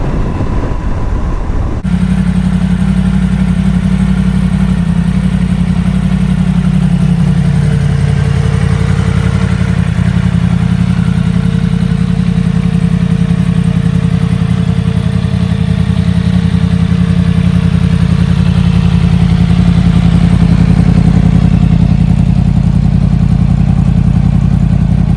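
A Yamaha MT10 Gen 2 motorcycle underway, its engine a strong, steady low drone with a smooth mid-range growl and wind rush, loud and continuous after a brief opening moment.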